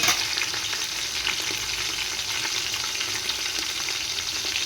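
Green chillies roast in a pan with a continuous, even, close sizzle and faint stirring sounds throughout, with no talk.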